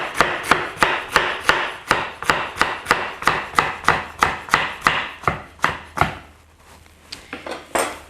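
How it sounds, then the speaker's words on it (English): Carrots chopped in half with a knife on a board, a quick even run of about twenty crisp knife strikes, a short pause, then a few more close chops; no voices. "So just chop these in half and then the same thing,"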